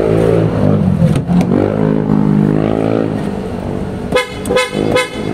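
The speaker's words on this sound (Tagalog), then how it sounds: "testing po natin yung horn sir kung gaano kalakas ba" Loud PIA AA auto-style car horn under test, a sustained blaring tone for several seconds followed by a few short sharp toots near the end, very close and loud.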